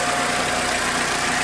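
A steady, loud idle from a petrol car engine after a cold start, now nearly warmed up, with an even rumble and no variation.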